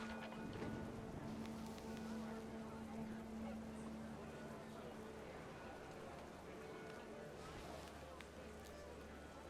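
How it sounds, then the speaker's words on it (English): Panicked geese honk in What Remains of Edith Finch as wind picks up outdoors, a faint, busy flurry of calls over steady rushing noise, with a narrator speaking over it. "panicked geese appeared and quickly went"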